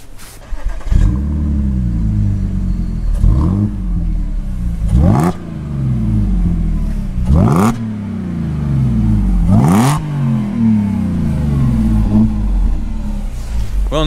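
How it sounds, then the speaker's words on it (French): An Audi S4's supercharged V6 with an aftermarket exhaust revs repeatedly, climbing and dropping in pitch with a whining supercharger note, loud and close, each rev ending in a sharp burst. "En effet ça chante bien le V6 et puis on entend un petit peu le compresseur"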